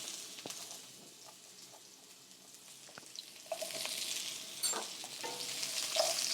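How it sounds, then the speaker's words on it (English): Sliced zucchini sautéing in a little olive oil over medium heat, a steady close-up sizzle with soft crackles and a few stirring clicks that grows slightly louder toward the end. "saute them in a little bit of olive oil, just a medium temperature"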